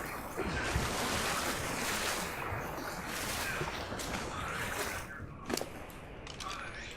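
Splashing, rushing water while swimming underwater in the Ark survival game, a steady broadband wash that holds constant throughout, with a brief sharper splash near the end and no voices.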